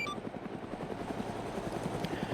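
Helicopter in an Arma military operation game, a steady close rotor chop with a pulsing beat running throughout the short stretch.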